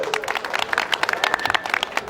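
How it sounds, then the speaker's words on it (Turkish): Spectators at a 2014 wrestling event clap for a sponsor's donation announcement, a dense crowd applause of many quick hand claps, fairly loud and continuous, with some voices in the background. "47 milyar alkışlıyoruz."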